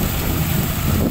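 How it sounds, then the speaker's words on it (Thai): Strong wind blows across a sugarcane field as rain approaches, roaring steadily and buffeting the microphone with loud, constant rumble and hiss throughout. "ลมแรงครับลมแรงตอนนี"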